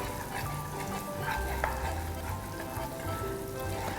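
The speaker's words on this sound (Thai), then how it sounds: "แล้วก็คนให้เข้ากันกับ คาราเมลกับเนยให้เข้ากันนะคะ" Caramel and butter are stirred together in a pan just taken off the stove, making a faint, steady bubbling and scraping sound over a low hum.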